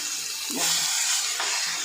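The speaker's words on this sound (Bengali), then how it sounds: "এই যে মাছ ভাজা বসিয়েছি" Fish fries in a pan with a steady, close hiss of sizzling oil that swells slightly midway, with no talking.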